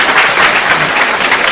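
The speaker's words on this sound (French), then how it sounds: "On acclame." A crowd of young people at a church youth event applauds, steady dense clapping filling the space, loud and continuous throughout with no speech over it.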